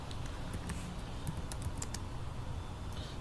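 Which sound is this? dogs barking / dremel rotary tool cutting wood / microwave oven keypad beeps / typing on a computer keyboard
typing on a computer keyboard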